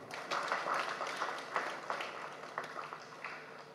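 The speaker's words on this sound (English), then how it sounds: "the Prime Minister deserves a bigger hand clap" An audience at a water and environment week event in Uganda gives a round of applause for the Prime Minister, a soft, steady patter of many hands heard from a distance with a few sharper claps.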